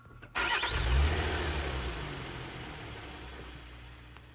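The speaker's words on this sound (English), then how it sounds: "Javier is done with fixing the car, and the driver gets back in to test the engine" A repaired car's engine in a video game cranks and catches with a sudden loud turnover, then settles into a steady, low idle that slowly fades.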